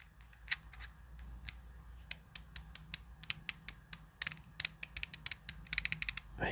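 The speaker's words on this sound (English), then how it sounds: "and it does ratchet, so I'm hoping, I'll try and get the microphone closer so you can hear it" Sharp, close ratchet clicks from the adjuster of a Maxx Model MWS hop-up unit, irregular single ticks at first, then quicker clustered runs of clicking against a quiet background.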